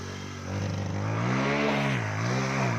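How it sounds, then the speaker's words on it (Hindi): A motorcycle ridden along an unpaved dirt track in hot weather, its engine droning steadily and rising and falling in pitch as the rider revs, close by with no talk. "ये बाइक चला रहा है"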